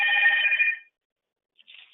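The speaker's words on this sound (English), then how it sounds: "we've got a phone ringing in here" Telephone bell ringing indoors, one bright electronic ring burst followed by a pause and the start of another ring.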